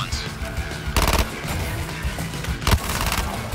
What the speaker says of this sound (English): Which gun did I want? This one. Yeah. I do like a good SMG.